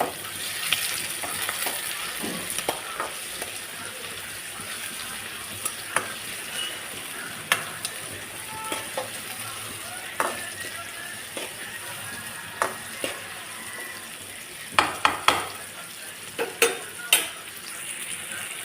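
Sliced onions fry in a pan with a little salt while making a Rayalaseema uggani bajji. A continuous close sizzle runs throughout, with scattered spatula scrapes and knocks that cluster into a quick run of taps near the end.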